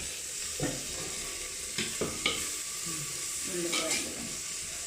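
Onions fry in a pan for a kappa chicken biryani, giving a steady low sizzle with a few scraping stirs of a spoon, fairly quiet and without voices.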